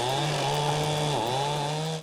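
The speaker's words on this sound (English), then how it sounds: "Even with a chainsaw, Colin's not having any luck." A chainsaw cuts into a tree branch during a roadside recovery, its engine buzzing steadily and close, bogging down briefly mid-cut as the blade binds, then revving back before cutting off.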